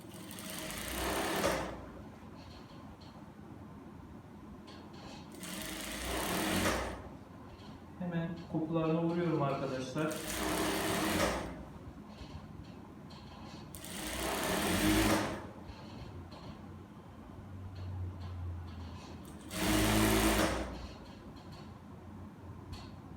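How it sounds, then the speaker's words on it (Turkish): Sewing machine stitching a seam on a square-neck dress, running in five loud, even bursts of rapid mechanical whirring a few seconds apart, with quieter handling noise and a brief voice between them. "O yüzden birer santimden dikiyorum."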